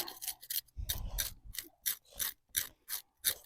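A fried bream's scales are scraped off with quick, rasping strokes: about eight close, harsh scrapes in an irregular rhythm, each separated by short pauses.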